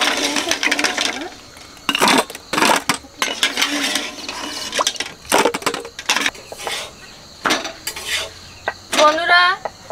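Boiled eggs lifted out of hot water in a metal pot, heard as bursts of clattering utensil scrapes and clinks against the pot with short gaps between them, close and fairly loud.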